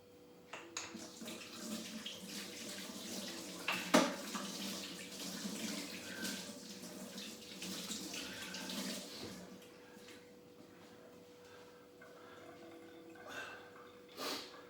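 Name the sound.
tap water running while washing hands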